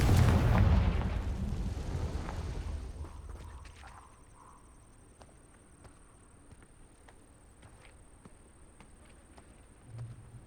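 Confringo explosive spell in the Hogwarts Legacy video game, a loud, booming blast at the start that decays over a few seconds into a faint ambient tail with scattered small clicks.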